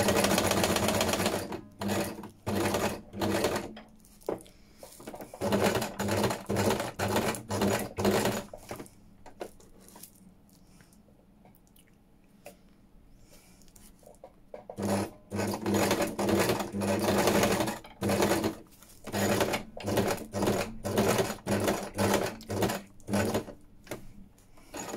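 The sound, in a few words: sewing machine stitching tissue paper on journal topper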